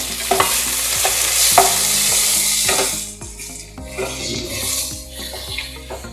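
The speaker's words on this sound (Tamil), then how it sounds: "வெங்காயம் நல்லா வதங்கிடுச்சு. இப்போ நம்ம தக்காளி சேர்த்துக்கலாம்." Onions sautéing in a pan for prawn salna hiss steadily while a spoon scrapes and knocks rhythmically against the pan; the sizzle eases after tomato goes in, with stirring continuing close up.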